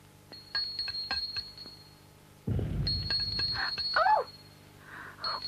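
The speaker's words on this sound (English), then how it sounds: "My bells have come to life." Small bells, the kind found on a bicycle, ring in several sharp, bright dings, first in a quick cluster and then again later, with a burst of low rumbling noise in between and short chirping sounds near the end.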